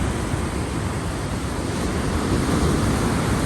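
Ocean waves and surf at a beach, a loud continuous broadband wash of water with wind, steady throughout and with no talking.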